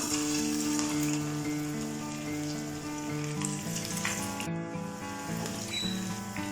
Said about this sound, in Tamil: இப்போது நம்ம சிக்கன் ஃப்ரை பண்ண ஒரு ஃப்ரைங் பேன் வச்சாச்சு. ஆயில் ஆட் பண்ணியிருக்கோம்.